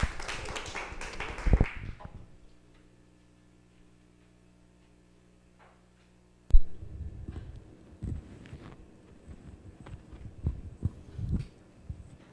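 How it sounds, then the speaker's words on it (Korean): A church congregation clapping, a burst of close, dense applause that stops abruptly, followed by a long quiet hum, then scattered, uneven claps and taps returning more faintly. "큰 목소리로 합창하면 박수 한번 칩시다"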